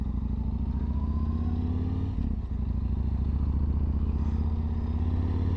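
A motorcycle exhaust running with its baffles in gives a steady, throbbing idle with a low, even rumble. A brief clattering disturbance comes partway through, then the engine settles back to the same constant drone, with no voices.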